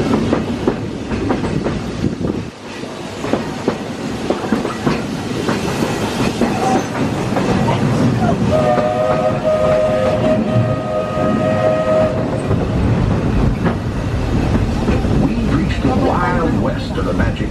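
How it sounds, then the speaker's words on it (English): A Walt Disney World Railroad train rumbles and rattles steadily throughout, heard aboard, with clacking wheels, and a tonal horn or whistle sounds partway through; a voice carries faintly over the din. "I'll stay safe and sound right here aboard my train,"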